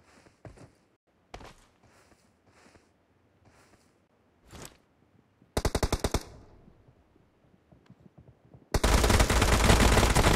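Gunfire in PUBG Mobile: scattered single shots at first, then a fast automatic burst, then a dense, loud stream of rapid fire toward the end.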